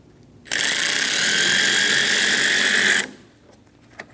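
A ratchet with a 10mm socket loosens the battery negative terminal on a 2008-2015 Scion XB 2.4L, giving one continuous loud, close clicking burst of about two and a half seconds before stopping.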